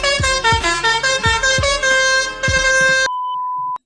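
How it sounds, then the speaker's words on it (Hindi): A string of loud, unusual vehicle horns in America, blaring as sustained multi-tone blasts with sharp repeated onsets, ending in one steady high tone after a break. "मुझे यकीन नहीं आता कि अमेरिका में भी ऐसे हॉर्न्स यूज किए जाते हैं।"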